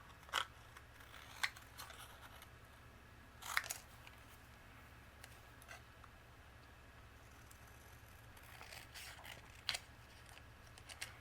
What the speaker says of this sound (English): using my scissors, I'm going to trim it down